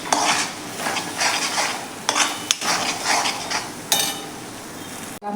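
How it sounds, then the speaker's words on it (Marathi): Masala paste being stirred and sautéed in a pan while making methi matar malai, with repeated scraping strokes of a spoon against metal, soft sizzling and occasional clinks. "हा मसाला देखील आपण व्यवस्थित असा यामध्ये परतून घ्यायचा आहे."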